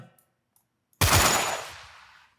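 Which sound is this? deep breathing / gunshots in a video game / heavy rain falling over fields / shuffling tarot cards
gunshots in a video game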